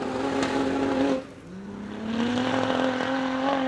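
A Jimco mid-engine desert race car with a low-slung rear tyre accelerates hard off the start line at the Finke Desert Race. The engine note rises loud and close, dips briefly, then climbs steadily again.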